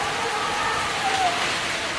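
Rain falls during a stormy monsoon as a steady, dense hiss of drops that stays even for the whole short stretch, with no clear voices over it.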